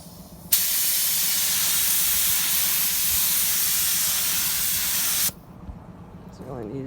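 A Harbor Freight Spectrum spray gun lays down a coat of paint, one loud continuous hiss of several seconds starting and cutting off abruptly, close by, with a brief voice after it stops.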